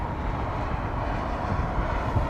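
Emirates Airbus A380 at London Heathrow, a steady, loud broadband jet roar with no voices.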